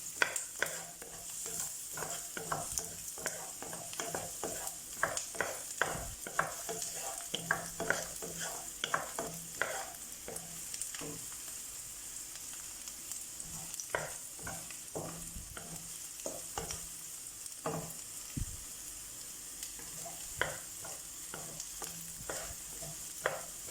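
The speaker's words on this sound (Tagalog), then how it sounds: "haluin lang natin" Bitter gourd (ampalaya) with egg stirred in a frying pan, a spatula scraping and tapping in an irregular rhythm over a steady soft sizzle, close and moderately quiet, no voices.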